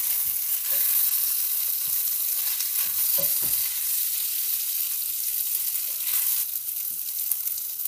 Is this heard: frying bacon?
yes